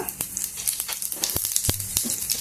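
Mustard seeds, cumin and curry leaves sizzling and crackling in hot oil, a loud close sputter punctuated by several sharp pops.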